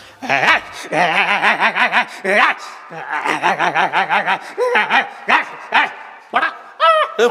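At a comedy show, a mimicry artist vocally imitates a dog, with rapid strings of yapping, barking bursts in quick rhythm, loud and close, with chuckling sounds mixed in.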